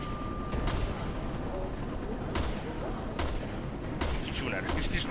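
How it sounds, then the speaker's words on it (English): Repeated gunfire from the video game Resident Evil: Revelations 2, several sharp shots spaced irregularly over a steady, noisy background, with a voice speaking faintly underneath. "He's shooting at her."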